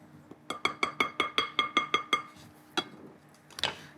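A utensil clinks against a bowl while seasoned salt, paprika and cayenne are stirred for chicken gizzards, giving about eight quick, evenly spaced taps followed by a few slower, scattered knocks, all close and clear.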